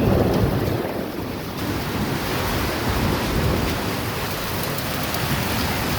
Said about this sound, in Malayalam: നല്ല ശക്തമായിട്ട് മഴയും പെയ്യുന്നുണ്ട്